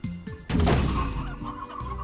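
Chickens cluck in the video game Slime Rancher, a few short close clucks and squawks with a louder burst midway, over a faint game background.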